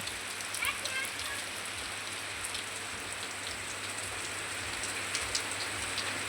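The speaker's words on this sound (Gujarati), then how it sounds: "જો વરસાદ પણ જબરજસ્ત પડવાનું ચાલુ થઈ ગયો છે" Heavy unseasonal rain falls steadily on farmland where groundnut crop lies soaking, a dense, even hiss of drops with a low steady hum beneath, continuous throughout.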